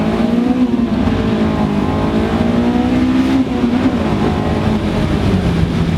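A Honda S2000 engine revs hard, the pitch climbing steadily, then dropping briefly on a gear change before rising again. The sound is loud, close and continuous, with no talking.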